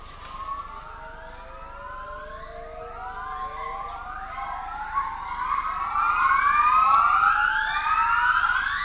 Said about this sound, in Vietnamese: Mỗi sáng, những con trưởng thành lại thi hát để cảnh báo những đàn vượn hàng xóm giữ khoảng cách.